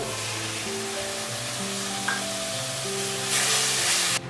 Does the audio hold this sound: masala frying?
yes